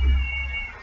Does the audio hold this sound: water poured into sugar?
no